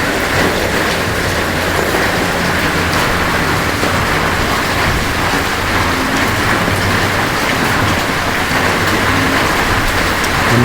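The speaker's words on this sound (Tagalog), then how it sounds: "Dito maliligo ako sa ulan." Rain falls outdoors as a steady, dense hiss that holds at the same loudness from start to finish, with no voices over it.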